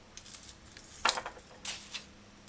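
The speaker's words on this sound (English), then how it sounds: "I'm using a food scissors." Food scissors snip through a fish fillet, cutting it into inch-sized chunks for a stew. A few short, crisp cuts sound close up in a quiet kitchen, with one sharp snip standing out among fainter clicks.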